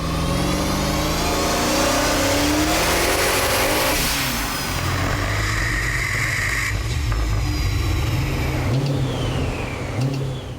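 A twin-turbo Hemi Dodge Challenger SRT8 roars at full throttle on a chassis dyno, close and loud, its engine note climbing steadily across the run with rising whine and continuous heavy exhaust.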